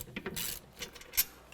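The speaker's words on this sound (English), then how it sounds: "then we'll switch over to the ratchet" A hand ratchet loosens the rear brake bolts on a 2005–2016 Toyota Rav4, giving short bursts of close mechanical clicking separated by brief pauses.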